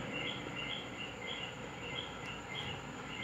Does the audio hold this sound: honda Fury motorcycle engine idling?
no